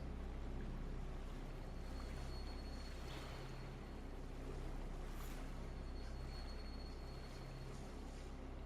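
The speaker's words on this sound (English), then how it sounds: "I woke to the sounds of waves washing on rock" Waves washing against rock along a shoreline in the video game Salt and Sanctuary, a steady, continuous surf wash with a low rumble that holds at an even level throughout, with no voices.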